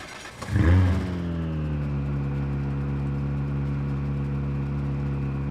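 Rally car engine in V-Rally 4 video game starts with a brief loud rev, then settles into a steady, close idle drone that runs unbroken to the end, with no talk.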